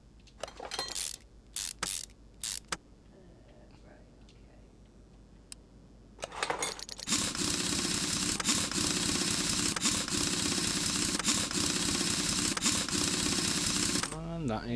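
Brake caliper being mounted in Car Mechanic Simulator 2021: sparse clicks and mechanical ticks early on, then a sustained loud broadband whirring tool sound for several seconds before stopping, with occasional voice.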